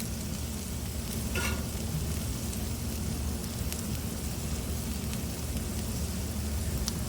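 Bacon strips sizzle on a hot Blackstone flat-top griddle with a loud, dense, unbroken crackle, close and constant throughout, and one brief scrape partway through.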